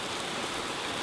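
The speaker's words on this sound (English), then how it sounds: "it's raining" Steady rain falls outdoors beside a shop lunch cookout where smoked sausage Philly sandwiches are being grilled, a continuous broadband hiss of drops on surfaces with no voices or other sounds standing out.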